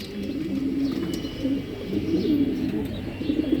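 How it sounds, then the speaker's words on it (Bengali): White Danish pigeons, a breeding pair on a farm, coo repeatedly in soft rolling phrases at close range, with faint chirps in the background and no talking. "অনেক সুন্দর কবুতর মাস্টার পেয়ার, ডিম পেরে দিবে, মাঝে ডিমে পারার জন্য বসে আছে"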